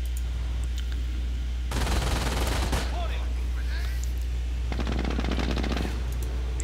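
Machine gun fire crackles through a video game battle in two sustained bursts, a closer, denser rattle early on and a second volley later, with distant scattered shots between, all under a low steady background hum.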